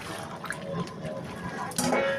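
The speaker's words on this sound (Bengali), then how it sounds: "ফুটানো জল দেব পরিমাণ মতো।" Boiled water being poured into a pot of chicken curry, a soft continuous splashing and trickling over a low kitchen background hum.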